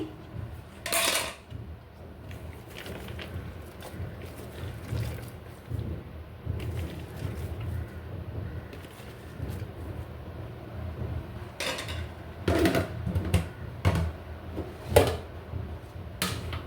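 Pots and utensils clanking while Eid sacrifice meat is put on to cook, with scattered metallic knocks, scrapes and clatters, some sharper hits near the end.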